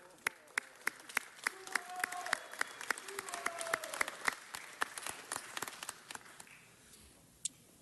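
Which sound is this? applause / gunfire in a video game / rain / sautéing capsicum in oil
applause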